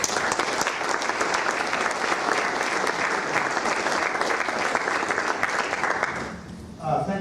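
An audience applauds to welcome a speaker at an evening event, steady dense clapping filling the room for several seconds before tapering off near the end.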